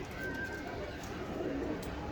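Faint, low pigeon cooing rises from a breeding loft of Sialkoti breeder pigeons, blended with soft murmuring voices and loft background noise.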